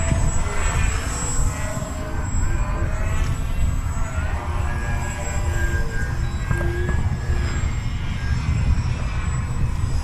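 Foamboard Yak 55 RC 3D plane flying continuously overhead, its small electric motor buzzing with a steady drone and faint whine over constant wind and field noise, no talking.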